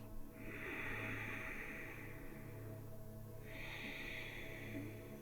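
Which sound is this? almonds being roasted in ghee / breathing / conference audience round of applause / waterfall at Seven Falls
breathing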